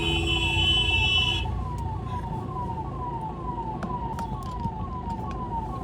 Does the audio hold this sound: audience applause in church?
no